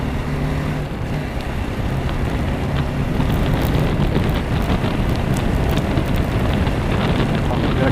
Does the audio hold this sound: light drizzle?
yes